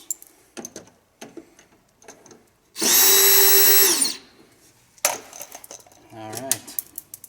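A power drill removing screws from a 1999–2004 Mustang GT door whirs in a single loud burst of about a second, surrounded by clicks, clatter and handling noises.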